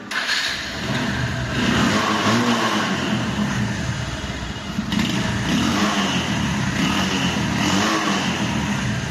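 Bajaj Discover 135cc motorcycle engine runs steadily and loudly, a continuous mid-pitched drone with slight rises in revs and no talk.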